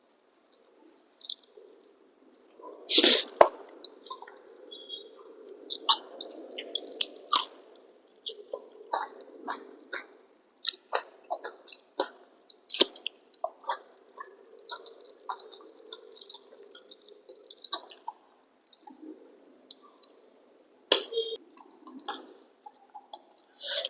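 Someone eats prawn curry with a green chili and a drizzle of mustard oil, with close, wet chewing and squishy mouth sounds coming in irregular bursts over a long stretch, plus a few sharper smacks.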